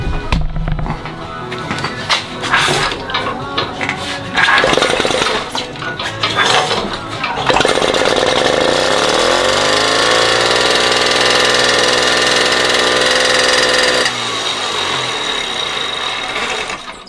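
Moped engine cranked with clattering and rattles for several seconds, then catching and running with a steady buzzing idle that rises and settles, continuing loud and close until the end.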